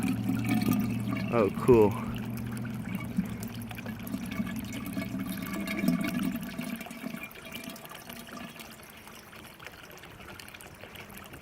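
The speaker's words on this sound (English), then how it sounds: "So that's the overflow, and then it's going down that pipe and into those two beds" Water overflows from an aquaponics system and runs down a pipe into two grow beds, producing a steady pouring trickle that eases off partway through as someone speaks briefly over it.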